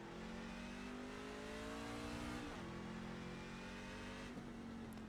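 Race truck engine in iRacing, a Maconi C-Fixed truck at COTA, droning steadily as its revs fall and then settle, with a brief shift midway; no talk.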